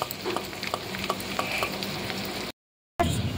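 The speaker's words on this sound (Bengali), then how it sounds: "আমি আবার একটু তেল দিয়ে দিলাম, দিয়ে এটাকে আর একটু ভেজে নেব" Kharkol leaf paste sizzles and fries in a pan of oil while being stirred, with a steady close crackle and soft scraping strokes, briefly cut to silence before resuming.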